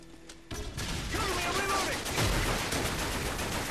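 Gunfire and explosions from grenades and a rocket launcher in a team deathmatch of Modern Warfare 3 on the Wii, a dense continuous barrage of blasts and shots that starts abruptly and stays loud throughout.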